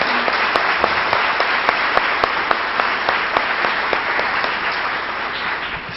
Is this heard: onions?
no